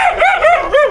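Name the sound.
puppy barking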